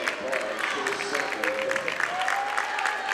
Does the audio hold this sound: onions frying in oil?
no